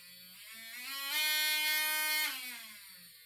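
A Harbor Freight Bauer variable-speed power tool, used for polishing brass on a Hawken rifle, spins up to a high whine, holds briefly, then winds back down, close and clear.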